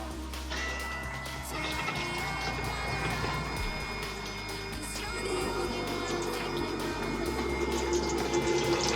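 An electric tap in a camper van water system runs water steadily, with the hum of a small electric pump underneath and a light splashing stream, no talking.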